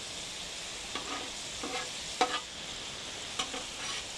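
Onions and mushrooms sizzle softly on a griddle, a steady faint frying hiss broken by a few quick scraping flips of a spatula.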